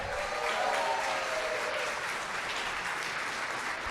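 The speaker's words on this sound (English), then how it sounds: "let's give a round of applause to our incredible photographer" Wedding guests at the Tinsmith applauding the photographer, videographer, caterer, DJ and staff during the toasts, a steady, even wash of crowd clapping sustained throughout.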